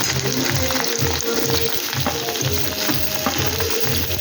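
Pieces of pointed gourd added to a pan of already fried potatoes sizzle and crackle loudly in hot oil. The frying is steady and close, with some stirring and no talking.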